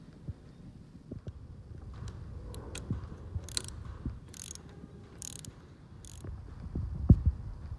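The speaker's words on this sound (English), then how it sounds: "The mag plug can now be torqued to 25 newton meters." A torque wrench ratchets a magnetic drain plug tight on the crankcase of a Rotax 912 aircraft engine, giving a few sharp, close mechanical clicks and ratcheting bursts spaced about a second apart over quiet handling noise.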